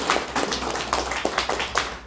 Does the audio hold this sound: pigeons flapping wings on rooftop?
no